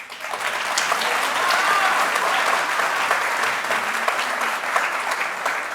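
A large studio audience at the Indian TV courtroom-style talk show Aap Ki Adalat bursts into loud, continuous applause, a thick wash of many hands clapping that holds steady for several seconds.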